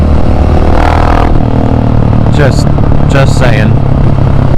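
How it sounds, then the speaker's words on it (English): KTM 701 Supermoto with an aftermarket aero exhaust pipe, loud steady engine drone close up and constant throughout, with rising revving bursts partway through and a short spoken remark at the start. "Getting some audio of how that beautiful aero pipe sounds"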